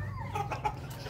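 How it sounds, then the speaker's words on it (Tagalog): Chickens kept in a house attic, a few soft, close clucks in quick succession over a low background hum. "dito tayo ngayon sa attic kung saan may mga manok"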